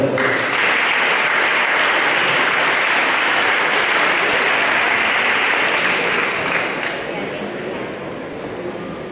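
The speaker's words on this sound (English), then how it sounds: "So let's clap that up." A crowd at a men's college basketball game between City College of San Francisco and Chabot College applauds steadily for a graduating sophomore player, dense sustained clapping filling the gym and fading slightly at the end.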